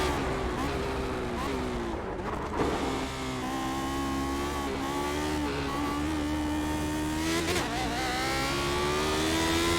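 A Lotus 79 race car in iRacing at the Nordschleife, its engine droning loudly and steadily with rising and falling pitch as it revs through gears, while someone talks over it.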